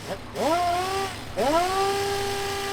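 A handheld power tool stripping black paint from a Nova is revved twice to full throttle, each time spinning up into a steady, close, loud whine that holds briefly.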